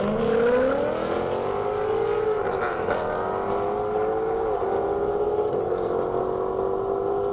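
Race cars at the Indy Airstrip Attack, a BMW M5 and a Lamborghini, roar past with steady high engine drones whose pitch bends and shifts, loud and continuous with no talk.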